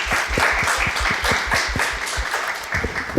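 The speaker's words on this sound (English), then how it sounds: "Clap it up." An audience at a talk on real estate and gentrification breaks into applause, a dense patter of many hands clapping together for a few seconds, with a faint thumping rhythm underneath.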